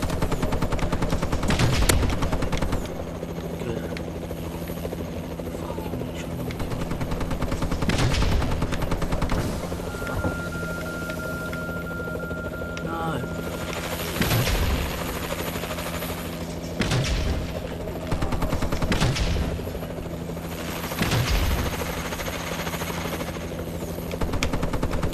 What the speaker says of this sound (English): Warbird assistance requested.